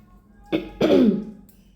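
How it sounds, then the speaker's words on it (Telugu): A woman clears her throat twice, a short rasp followed by a longer, heavier one, close and clear against a quiet room. "ఇన్నిసార్లు నేను గొంతు సవరించుకోవాల్సి వస్తుంది"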